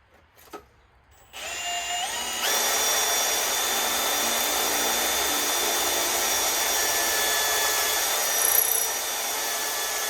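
A power drill drilling into a billet LS crankshaft whines steadily at high speed after a brief start-up, running continuously and loudly with a slight pitch change near the end.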